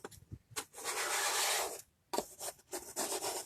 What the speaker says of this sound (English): Love the chalk scraper.